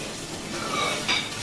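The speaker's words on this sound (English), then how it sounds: "I can hear this oil splashing, sizzling, I would say" Oil splashing and sizzling inside an automatic cooking robot with garlic added, a continuous hiss with light clinks and stirring scrapes, close and fairly quiet, no talk.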